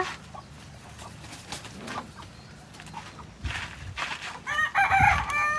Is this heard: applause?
no